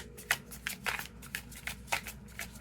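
Tarot cards being shuffled and drawn from the deck, a series of soft, close riffling flicks and snaps in an uneven rhythm, quiet and alone without any talk.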